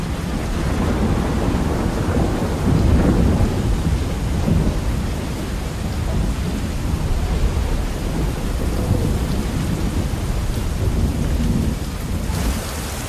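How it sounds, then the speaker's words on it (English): A thunderstorm sweeps over the Amazon rainforest, heavy rain pouring steadily and loudly throughout while low thunder rumbles roll underneath, with no voices present. "the champion wrestler Chumin tries to brave the oncoming storm."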